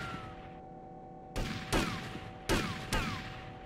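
Gunshots in the video game Grand Theft Auto Vice City, four sharp shots in two quick pairs, punching over a quiet steady game background.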